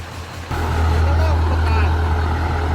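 A Scania truck with an upgraded turbo and injectors, its engine roaring loudly and steadily with a deep low rumble close by, while people talk in the background.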